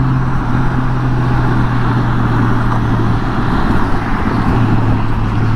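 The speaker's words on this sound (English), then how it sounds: "you got all this traffic to keep you company" Steady road traffic roars around a Honda Goldwing motorcycle on the road under blue skies. Engine hum and wind noise form a dense, continuous wash with no pauses, and nobody speaks.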